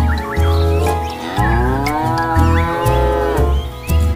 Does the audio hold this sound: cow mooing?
yes